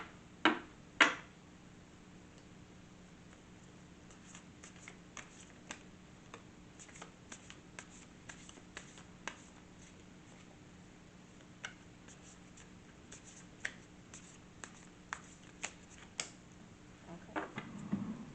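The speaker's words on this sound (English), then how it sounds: "Having trouble shuffling today" Tarot cards are shuffled quietly in a calm room, with scattered soft flicks and taps that come irregularly over a faint background hum and build to a louder flurry near the end.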